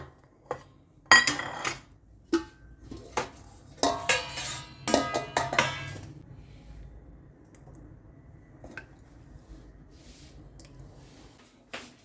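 Food served onto plates at home: a spoon clinks and scrapes against dishes in a burst of close taps, then fades to sparse faint clinks in quiet.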